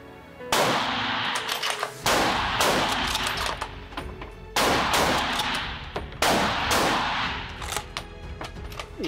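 Gunshots at a shooting academy range, four loud sharp reports spaced about two seconds apart, each followed by ringing echo and clattering, with no speech.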